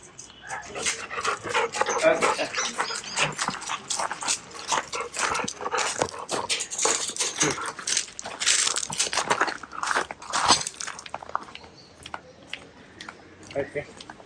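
A dog crunches on a biscuit with a burst of dry, irregular crackling close to the microphone, mixed with panting and sniffing while a person talks nearby before the sound fades out.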